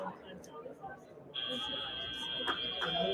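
A buzzer sounds at the end of a robotics league match, cutting in partway through as a loud, steady electronic tone that holds to the end over commentary and arena noise.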